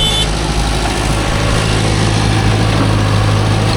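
A JCB 3DX backhoe loader loads soil beside Mahindra 575 DI and John Deere 5050D tractors, its diesel engine droning loud and steady throughout, heard up close with no talking.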